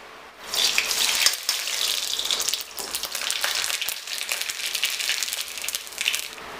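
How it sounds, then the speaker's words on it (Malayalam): Mustard seeds spluttering in hot oil in a pan, a loud, close crackle of dense rapid pops that starts abruptly and continues steadily, with no talking. "എണ്ണ ചൂടാകുമ്പോൾ കടുകിട്ട് പൊട്ടിക്കുക."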